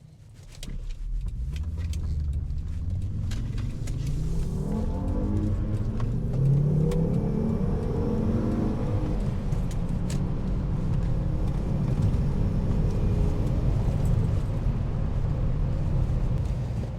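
A Volvo C70 T5 with a slight remap to 270 horsepower accelerates from inside the cabin, its engine rising through the gears in a steady, moderately loud drone with no voices.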